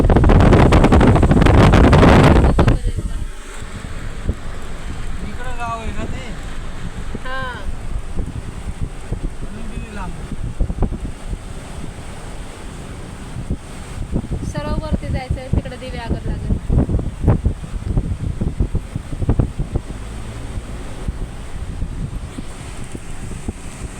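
Strong seashore wind buffets the microphone in a loud roaring blast at first, then settles into a steady rushing gust while people talk over it.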